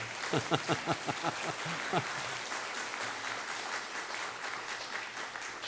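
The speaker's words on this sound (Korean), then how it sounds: "이 정도 되면 박수 한번 드려야 되는데" Scattered clapping builds quickly into steady applause from a church congregation that continues evenly, with a voice briefly heard near the start.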